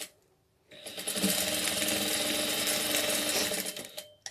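Sewing machine topstitching a doll dress, a steady fast run of needle stitching that starts after a brief quiet moment and continues loudly for several seconds before easing off.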